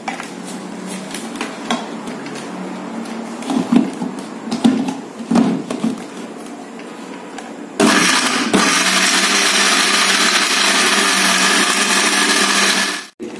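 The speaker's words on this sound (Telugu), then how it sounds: "మిక్సీ వేసేస్తాము." A kitchen mixer grinder starts up with a loud, steady whirring roar as it grinds dried tomato and tamarind, preceded by several seconds of clattering and knocking as the jar is handled, then stops abruptly.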